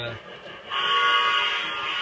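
A train whistle blows in a sustained, steady tone for over a second, starting after a brief lower sound, fairly close and loud.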